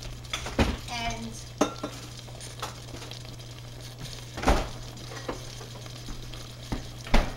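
White wine poured over yellow squash and pasta in a hot pan, with sharp sizzling bursts and repeated scraping stirs and utensil clinks against the pan.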